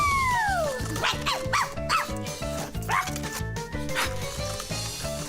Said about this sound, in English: I don't know what she's barking about